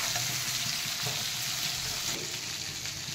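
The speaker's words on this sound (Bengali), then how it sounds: "তারপর চিংড়ি মাছ বেশি লাল করে ভাজবো না, এর টেস্টি চলে যাবে, আমি অল্পই ভাজবো" Shrimp frying lightly in a pan give a steady, soft sizzle that runs evenly throughout, close and moderately loud, with no talking.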